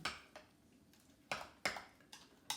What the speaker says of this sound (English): All right, I'm going to stir this up